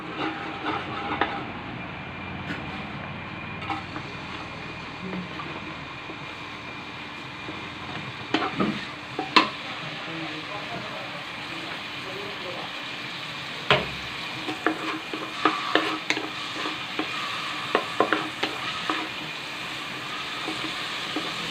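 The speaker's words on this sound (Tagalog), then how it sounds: "gisahin na natin siya ilagay muna natin yung bawang" Garlic sautés in three spoonfuls of cooking oil for pork mung bean stew, a constant close sizzle broken by repeated scraping and clattering stirring strokes, with no talk.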